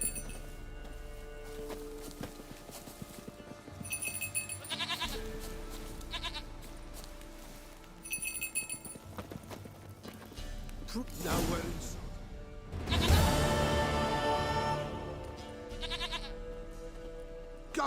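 A goat in The Witcher 3 bleats in short repeated calls amid game music and ambient clinks, with a louder burst of noise near the end.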